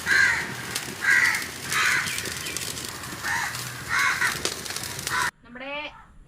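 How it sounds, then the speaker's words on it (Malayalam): Crows caw outdoors near a home kitchen, loud repeated harsh calls that come in separate bursts, several birds calling back and forth, ending with one close, raspy call. "കാക്കകൾ കണ്ടമാനം നമ്മുടെ ഇവിടെ."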